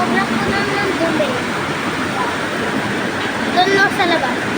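A flooded river swollen and full of debris after Typhoon Kristine, rushing right beside a house, making a steady broadband roar of water throughout, close and loud.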